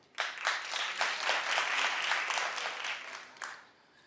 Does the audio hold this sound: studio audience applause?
yes